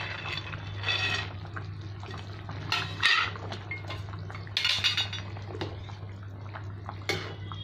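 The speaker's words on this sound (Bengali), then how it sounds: "ঝোলটা আমার ফুটে গেছে, মাছগুলো দিয়ে দিলাম।" Pot and utensil clatter with some liquid sloshing as fish and bori go into a boiling Bengali fish curry with kohlrabi, over a steady low burner hum; the clinks come irregularly and sit close.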